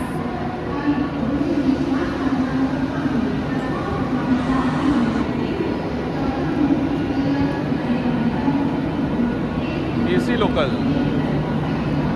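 A Mumbai AC local train at the CSMT terminus, a continuous close rumble of carriages and wheels with brief high metallic squeals, heard throughout under someone talking.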